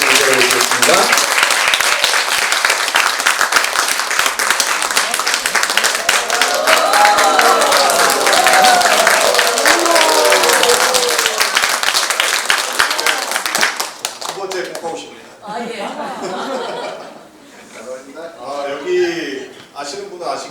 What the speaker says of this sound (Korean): 자, 그러면 2부 한번 큰 박수로 모시도록 하겠습니다.